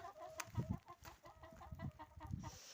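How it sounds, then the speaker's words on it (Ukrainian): Hens cluck softly in short bursts, a few low clucks repeating over a faint steady background, close by. "кури от тікають, ховаються"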